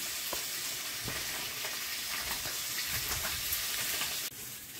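Fish sizzling and spitting steadily in hot oil in a wok, a dense close frying hiss with scattered pops and light stirring scrapes throughout.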